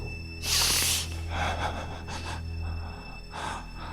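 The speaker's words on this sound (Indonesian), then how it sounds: "Aku coba mengatur nafas dan menarik nafasku." Someone breathing heavily while trying to catch their breath, with a loud gasping inhale followed by several softer ragged breaths over a low steady hum.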